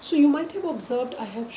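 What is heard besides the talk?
None of the usual background noises is heard.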